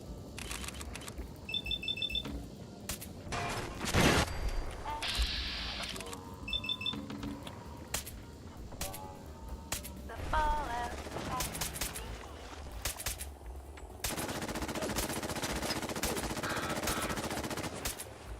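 Gunfire in Fallout 4 comes in repeated bursts of sharp close shots with heavy recoil, mixed with game clicks, beeps and effects, and a player talks in between.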